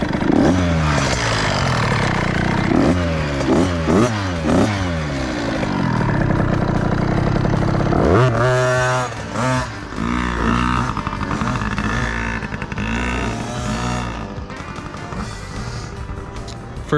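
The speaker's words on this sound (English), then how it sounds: "First time the kids are riding their dirt bikes around the house." Kids' small pit-style dirt bikes, such as a TC50 and PW50, ride around a house, their loud buzzing two-stroke engines revving and shifting pitch up and down as they pass close by.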